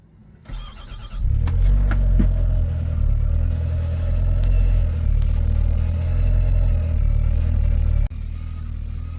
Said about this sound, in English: now we're going to fire it up so you can see how loud it is